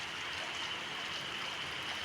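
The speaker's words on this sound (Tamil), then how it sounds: "ஃபுல் மழைங்க." Heavy downpour with a dense, steady hiss of rain pouring continuously and loudly close by, with no voices over it.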